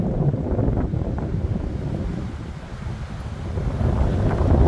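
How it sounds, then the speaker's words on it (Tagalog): Strong, steady gusts of mountain wind roar across the exposed summit of Mount Olis in Atok, Benguet, buffeting the microphone in a broad, surf-like rush that swells and eases over a few seconds with no speech. "pakinggan nyo yung hangin"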